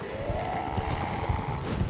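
Horse hooves clip-clop in Elden Ring during a mounted fight, a steady busy patter of game hoofbeats under a droning musical background, holding at even loudness with no pauses.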